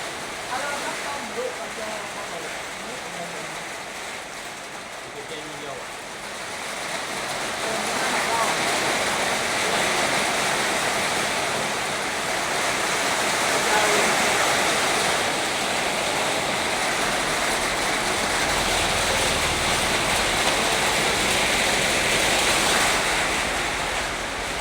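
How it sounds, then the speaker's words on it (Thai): Rain falls steadily outdoors, a dense, continuous hiss that swells slightly after the first few seconds and holds at a constant level, with no talking heard. "พอดีฝนตกพี่น้องเลย"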